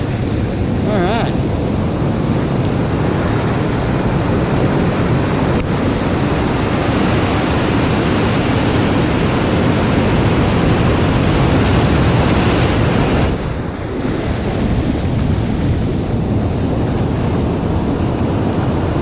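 Ocean waves crash on rocks at a shoreline, a steady loud roar of surf with broad rushing wash and gusting wind on the microphone throughout, swelling and easing without pause.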